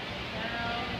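A leopard sheep bleats once, briefly and faintly, in a livestock area at the Isabella County Fair, half buried in steady crowd and barn noise.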